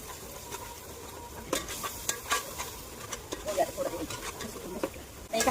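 Coriander and cumin powder being stirred in a frying pan, with soft scraping strokes and a faint sizzle underneath, close and quiet.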